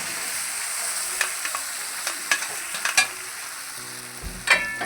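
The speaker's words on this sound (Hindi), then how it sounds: "अब फ़ौरन हमने क्या करना, इसके अंदर पैटीज डाल देनी है।" Chicken patties sizzling in a pan, a steady hiss of frying with a few sharp utensil clicks and taps scattered through it, close up.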